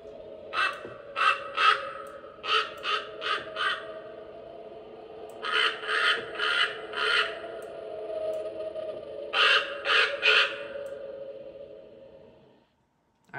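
A Halloween decoration crow from a craft store lets out repeated electronic caws in bursts of three to four, with pauses between groups, close and fairly loud over a steady low mechanical hum.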